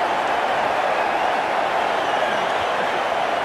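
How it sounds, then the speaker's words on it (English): Stadium crowd in the cricket video game Cricket 19 at a PSL match between Karachi Kings and Islamabad United, a steady loud roar of cheering filling the whole stretch with no break. "The crowd on their feet."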